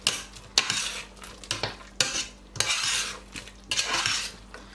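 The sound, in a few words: stirring a one-pot beef dish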